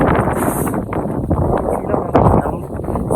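Strong wind buffets the microphone in a loud continuous roar atop Tindog Bato in Manlagtang, Tabogon, Cebu, gusting unevenly, with a voice faintly present underneath.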